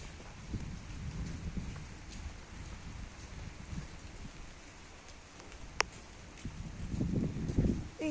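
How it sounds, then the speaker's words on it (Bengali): Rain falling in a Bangladeshi village before dawn, a soft steady patter on surfaces heard from nearby, with louder splashy bursts at the start and end and a sharp single tap in between. "বৃষ্টি হইতেছে"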